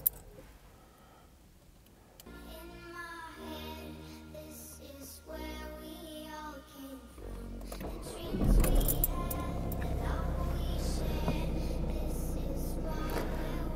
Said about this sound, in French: Maintenant, on va démarrer la voiture